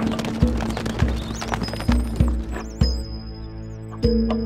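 Horse hooves clip-clop at a gallop in Stronghold Crusader, a run of regular thuds under game music and a few short whistling tones.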